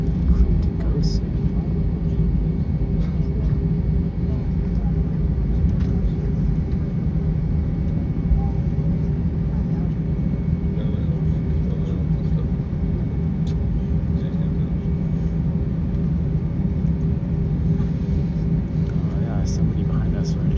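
An Aegean Airlines airliner taxis at Sofia airport in Bulgaria, heard from inside the cabin as a steady low engine rumble and drone throughout, with faint voices over it.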